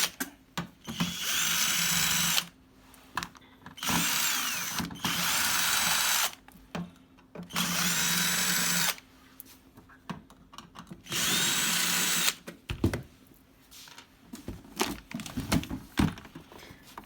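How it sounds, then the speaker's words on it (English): A power screwdriver backing screws out of the casing of an FRIII microneedling machine, heard as several long whirring runs separated by short pauses and small clicks of handling, close and loud. "8 screws. Screw them all."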